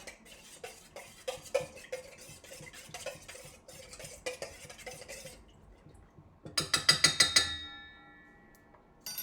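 Soy sauce and sake stirred together for a karaage marinade, a steady run of soft scraping and clinking stir strokes, then a louder burst of bright utensil taps near the end, close and with no talking.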